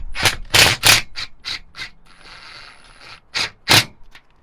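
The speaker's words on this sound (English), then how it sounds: "He puts it in there and turns it." A solar panel clamp with a washer is slid into an aluminum T-track and turned, giving a series of close, loud metallic scrapes and ratcheting clicks with a brief grinding rustle in between.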